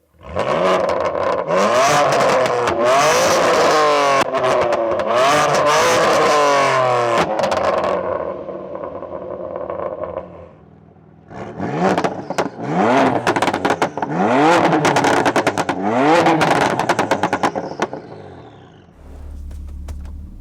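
Tuned BMW M3 engines, a Stage 2 G80 M3 Competition and a fully forged Stage 3 F80, rev loud and hard repeatedly, rising in sharp sweeps with crackling bursts, a brief lull midway, then another aggressive revving sequence.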